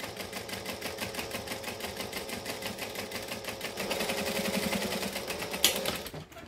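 Domestic sewing machine stitching a fabric shoulder bag with lining, a steady rapid mechanical whir that grows slightly louder near the end before stopping abruptly.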